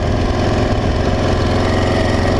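Honda XL 600 R dirt bike engine running steadily nearby, a loud, continuous rough rumble with no pauses or changes in revs.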